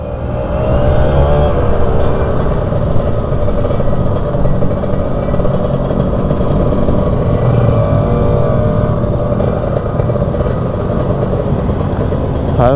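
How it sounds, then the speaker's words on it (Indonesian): Busy Sunday morning road traffic in Bali, with cars and motorcycles revving and passing close by in a loud, continuous engine roar. "Lalu lintas hari Minggu pagi udah rame banget."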